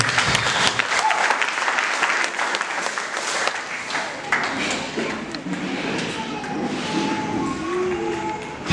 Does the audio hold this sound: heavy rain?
no